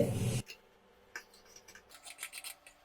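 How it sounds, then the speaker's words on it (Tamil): Scissors cut through blouse fabric in short, close rasping snips that come in a quick run after a brief rustle, with quiet pauses between strokes. "இப்ப நம்ம இதை கட் பண்ணிக்கலாம்."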